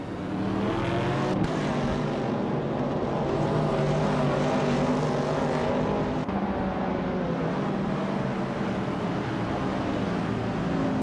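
Vintage race cars lapping the Batangas circuit in a racing game, a dense, continuous roar of multiple engines revving and droning together, loud and close with steady pitch shifts and no talk.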